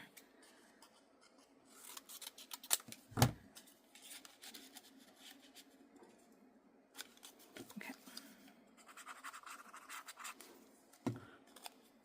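Scissors trimming paper card freehand for an A2 star fold card, a few soft snips and scratchy cuts at close range, faint and intermittent in a quiet room.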